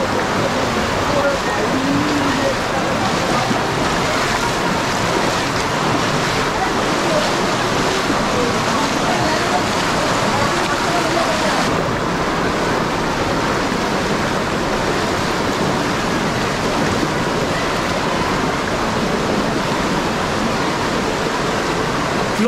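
Water rushes and roars loudly and continuously at Robbers Cave picnic spot, a dense close-up torrent like a waterfall or fast stream filling the whole scene.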